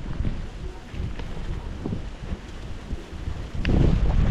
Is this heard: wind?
yes